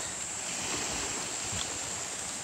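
Sea waves wash against the seashore at high tide, a steady, broad rushing wash that fills the air without pause and stays fairly even in loudness throughout.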